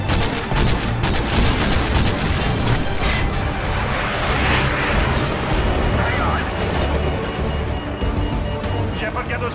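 Fighter aircraft firing in the video game Call of Duty Modern Warfare 2, a loud barrage of rapid gunfire and explosions mixed with roaring engine noise, with voices talking over the din throughout.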